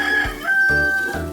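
A rooster crows once, close and loud, in a single drawn-out cock-a-doodle-doo lasting over a second, heard alone while beef with potatoes is being cooked.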